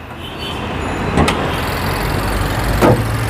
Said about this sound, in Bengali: বাবু ভাই ইঞ্জিনটা স্টার্টে আছে